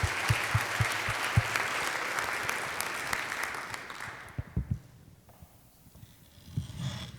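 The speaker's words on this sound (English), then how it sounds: "And let's give Doug a round of applause as well." Rotary club meeting members clap for Doug, a brisk round of applause with distinct individual claps that dies away after about four seconds, leaving a few scattered claps and quiet room noise.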